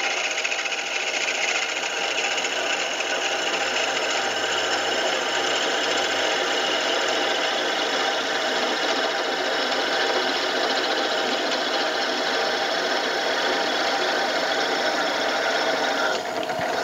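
Drill boring a hole out to 8 mm in a bolster plate, a steady loud whirring motor hum with a constant grinding edge running alone for the whole stretch.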